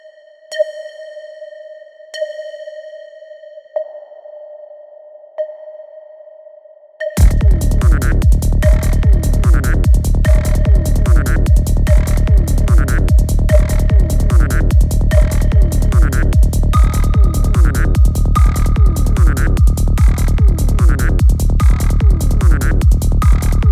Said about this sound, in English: That's the sound I'm going for, just this little ping in the background.